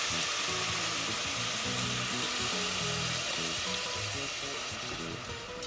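Chickpeas hit a hot pan with about half a cup of broth, giving a loud, close, continuous sizzle and bubbling hiss with faint stirring scrapes, fading slightly at the end, with no talking.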